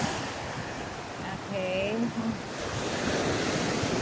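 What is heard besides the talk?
strong ocean waves at high tide on Batangas beach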